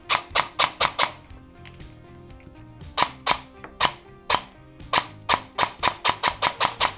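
An airsoft gun fitted with a Zion Arms Nebula mosfet fires in semi-auto: loud, crisp, snappy shots in quick strings, with a short quieter pause of mechanical clicking between volleys, all close up.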